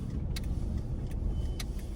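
A car drives through the city streets of Passaic, New Jersey, heard from inside as a steady, loud rumble of engine and road noise with no break.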